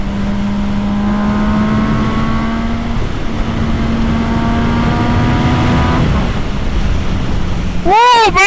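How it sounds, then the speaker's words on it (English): Strong wind buffeting a microphone during a motorcycle ride, a heavy rumbling roar with a steady engine tone underneath and a sudden loud gust burst at the end. "that wind is no joke"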